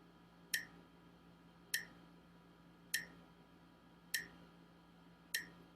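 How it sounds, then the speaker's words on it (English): A metronome ticks steadily at 50 BPM, five crisp, bright clicks evenly spaced a little over a second apart, alone in a quiet room. "you're going to be practicing with the metronome at 50 BPM"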